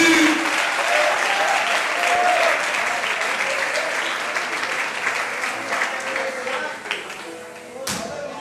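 A church congregation claps steadily and loudly throughout a sermon, sustained applause that gradually thins, with a preacher's voice faintly audible beneath it.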